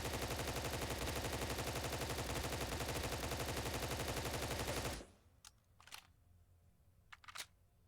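Automatic fire from a BAR rifle in a first-person shooter game, a loud, fast, steady burst of shots lasting about five seconds, then abrupt quiet with a few faint mechanical clicks and clatters.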